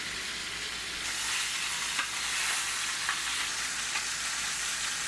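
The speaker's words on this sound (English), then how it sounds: "We'll brown up the bottom on a high heat" Chicken browning in a pan over high heat gives a loud, steady, continuous sizzle with no talking.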